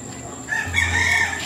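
A single rooster crows nearby, a short loud cock-a-doodle-doo over faint background noise.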